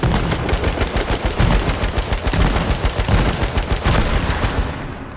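Fast, loud automatic AK rifle fire from the online shooter game H1Z1, a steady unbroken run of shots lasting several seconds, with no talking over it.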